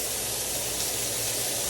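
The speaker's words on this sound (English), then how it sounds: "we want to sear this meat" Chili meat sears in a hot pan with a steady, loud, even sizzling hiss that runs unbroken from start to finish.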